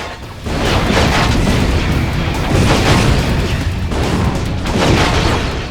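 Bombs go off in Ratchet: Deadlocked as a run of loud, heavy booming explosions, several bursts overlapping into a continuous rumbling roar with no talk over them.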